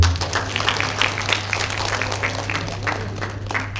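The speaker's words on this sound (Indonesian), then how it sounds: "Tepuk tangan buat HMP" A forum audience at a Lumajang economic event applauds, giving a moderate, continuous patter of many hands over a steady low hum, sustained for several seconds without speech.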